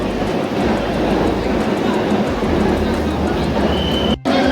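A Vande Bharat Express train at Kharagpur Junction in West Bengal gives a constant loud rumble and rail noise under a busy station atmosphere, with a brief dropout near the end.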